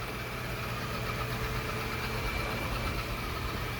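A Yeedi Vac 2 Pro robot vacuum runs with a continuous, even motor whir and brushing hum, steady and moderately quiet throughout with no talk.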